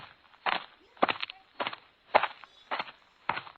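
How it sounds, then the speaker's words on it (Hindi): Heavy boots of a menacing figure tread through a silent curfew-bound street toward a bungalow, about six evenly spaced, muffled footfalls at a slow deliberate pace, alone and moderately close. "कर्फ्यू के सन्नाटे में गूंज रही थी उस जालिम के बूटों की आवाजें"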